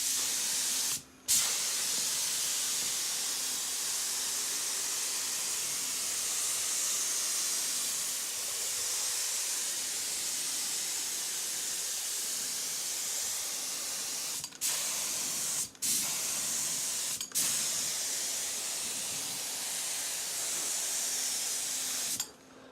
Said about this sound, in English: Despite having this rather crappy spray gun that came with the compressor, it did cover quite well.